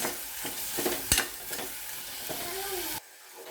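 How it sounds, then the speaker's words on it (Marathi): Sprouted moth beans being stirred with salt in a hot pan, giving a close, steady scraping and sizzling with a sharp clack of the spoon near the start, then an abrupt drop to near quiet. "ते एकत्र करून घ्यायचं सगळं फिरून घ्यायचं"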